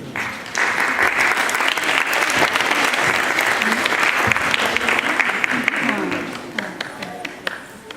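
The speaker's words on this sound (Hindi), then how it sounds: "आइए फिर से पूरी हंसी की तितौली की शाम के लिए जोरदार तालियां।" An audience at a Hindi stage comedy evening of a youth forum breaks into loud, sustained applause, dense clapping rising quickly, holding for several seconds and then thinning out toward the end.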